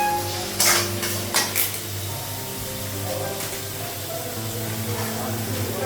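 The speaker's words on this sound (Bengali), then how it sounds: "জিরে দিলাম, লবণ, আর একটু ভেজে নেব মশলাগুলো" Cumin and salt fry in a pan in a home kitchen, giving a steady sizzling hiss under a low hum, with a few sharp clinks of a utensil against the pan near the start.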